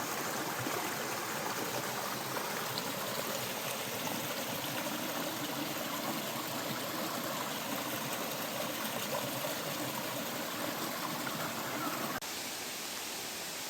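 Creek water rushes steadily near Tooloona Falls on the Tooloona Creek Circuit, a constant broadband flowing hiss with no voices.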